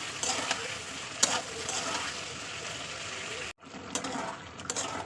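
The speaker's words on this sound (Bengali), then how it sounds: "এবার এই উপরে আমি টমেটো আর কাঁচা লঙ্কাটা দিয়ে দেবো দেওয়ার পরে আবার কিছুক্ষণ কষাবো" Tomato and green chilli sautéing in a pan for a Bengali lote fish chochori, a continuous close sizzle with stirring scrapes and a brief pause before the frying noise resumes.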